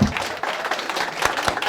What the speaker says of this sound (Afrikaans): kom ons staan en kom ons gee 'n lekker hande klap